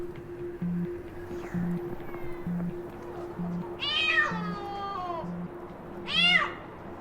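A cat stranded on a 29th-floor rooftop gives two drawn-out meows a second or so apart, fairly close and clear over a faint low hum and a soft repeating tone.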